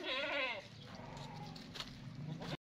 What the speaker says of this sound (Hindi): माशाल्लाह से मुंडी भिस्सर बकरी है हमारे पास